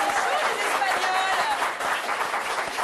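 Dense applause from an audience, steady broadband clapping and crowd noise filling the whole stretch, loud and sustained with no gaps.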